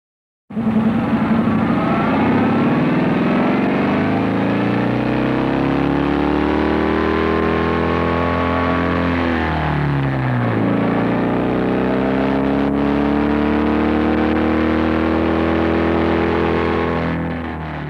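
An old BMW motorcycle engine is heard up close, loud and continuous, its pitch sweeping up and down as the rider accelerates and shifts, with a brief dip near the middle and no talk over it.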